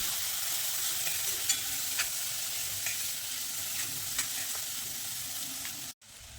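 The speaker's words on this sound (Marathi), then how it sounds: "आता हे चांगलं परतलं की टोमॅटो घालायचे आणि टोमॅटो सुद्धा चांगले इथे परतून घ्यायचे." Tomatoes sizzle steadily in spice paste for boiled egg chutney, with a continuous frying hiss and a few light scrapes of a spoon stirring the pan, close and with no talking.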